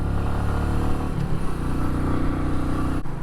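A Royal Enfield Meteor 350 motorcycle pulls in third gear with a steady, close engine drone and even harmonic hum, briefly dipping near the end before resuming.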